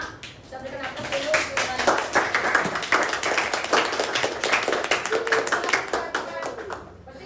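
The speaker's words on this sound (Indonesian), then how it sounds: "Bisa berikan aplaus dulu." Classroom applause from a group of high school students, steady dense clapping lasting throughout at moderate loudness, with some voices mixed in underneath.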